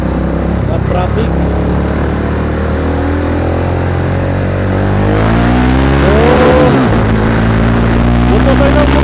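Busy road traffic in San Mateo heading toward Montalban, with car and motorcycle engines revving and passing close by in a loud, continuous rumble, and people talking over the noise.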